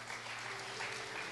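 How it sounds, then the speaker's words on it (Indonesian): Brief burst of audience clapping during a church family talk, a dense even patter of many hands at moderate distance, steady through the short moment with no voices on top. "Boleh tepuk tangannya dong."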